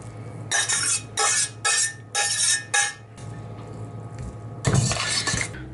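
Corn and rice tipped into a cooking pot, a series of short scraping, rattling pours with clinks of utensil against the pot, separated by brief pauses and ending in a longer final shake.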